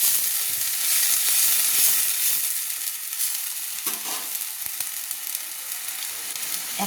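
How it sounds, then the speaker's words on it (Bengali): Ginger and cumin paste fries in a pan for ghugni, a steady close sizzle broken by scraping stirs and clinks of the spoon, with no talk. "আদা জিরে যে আমি একসঙ্গে পেস্ট করে রেখেছিলাম মিক্সিতে, সেটাও দিয়ে দিলাম। দিয়ে ভালো করে নেড়ে নিচ্ছি।"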